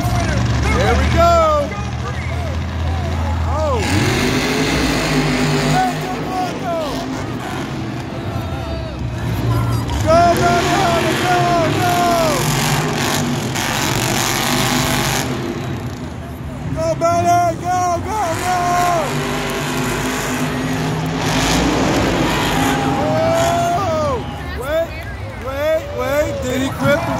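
Monster trucks racing in the arena at Monster Jam, Ford Field, Detroit, with engines roaring and surging loudly for the whole stretch while an announcer talks and the crowd murmurs.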